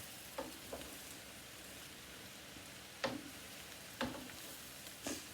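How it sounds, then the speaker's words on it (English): Food sautéing in a pan for a rehearsal dinner prep, giving a low steady sizzle with a few sharp clicks and stirring knocks spaced through the clip, close and fairly quiet with no talking. "So I'm just going to let this saute a little bit."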